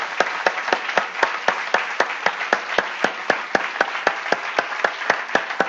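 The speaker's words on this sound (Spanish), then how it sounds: "Démosle un buen aplauso al Señor, hermano." A church congregation claps together in a steady, fast unison rhythm, sharp regular claps with no voices over them.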